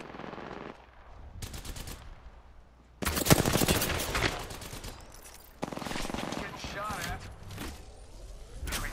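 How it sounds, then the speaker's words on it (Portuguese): Rapid automatic gunfire and single shots ring out in a team firefight in the battle royale game Apex Legends, loud bursts near and far across the whole stretch, with excited players talking over the combat. "O outro squad tá atirando na gente também, velho."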